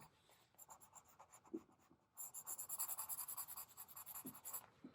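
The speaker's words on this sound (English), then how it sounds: "I'm just trying to do a nice drawing." A pen drawing a face on paper, a few light scratches at first, then a dense run of quick rhythmic scratching strokes close by, heard alone.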